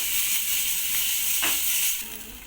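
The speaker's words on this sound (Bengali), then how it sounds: "টমেটো এগুলো হালকা করে ভেজে নেব। সবজিগুলোর মধ্যে অল্প নুন দিয়ে দেব, দিয়ে একটু লাল লাল করে ভালো করে ভেজে নেব।" Vegetables with tomatoes and carrots frying in a pan with a little salt, giving a steady close hiss of sizzling oil that eases off near the end.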